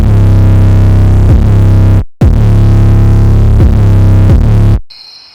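A loud, distorted screamo rap beat in FL Studio with an EQ band's gain boosted, its heavy bass-laden loop repeating in two phrases broken by a brief dropout, then cutting to near silence with a faint high tone.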